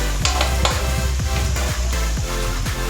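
Tomato and carrots are stirred for Filipino spaghetti sauce, a steady close sizzle broken by repeated scraping knocks of a utensil against the pan in a quick irregular rhythm.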